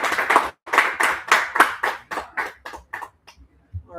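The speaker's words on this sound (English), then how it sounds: "Let's get another round of applause for" An open mic audience claps for a performer at a spoken-word event, in sustained bursts of applause that gradually thin out and trail off, ending in a few scattered claps and brief murmuring.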